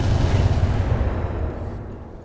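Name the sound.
AMS ammo explosion in Roguetech BattleTech video game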